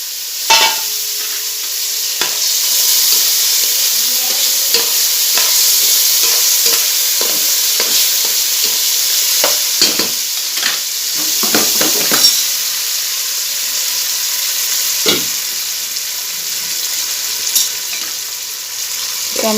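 Popcorn kernels frying in hot oil in a pan, a steady broadband sizzle with scattered sharp crackles and pops, close and continuous throughout.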